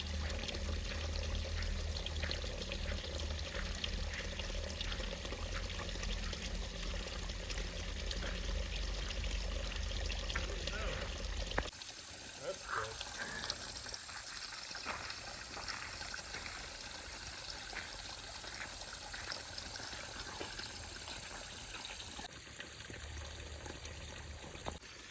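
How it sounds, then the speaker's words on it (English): Water spilling out of a mountainside into a small, clear river along the Roaring Run Trail near Apollo, Pennsylvania, a steady close pouring and trickling that continues throughout without talk, with a brief shift in tone midway. "you hear water flowing out of the side of the mountain here"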